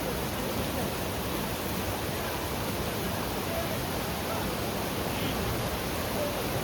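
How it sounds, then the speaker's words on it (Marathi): Tata Power waterfall at Khopoli in monsoon roars as a dense, steady broadband rush of falling water, loud and unbroken throughout, with no voices. "तो सुंदर असा वॉटरफॉल."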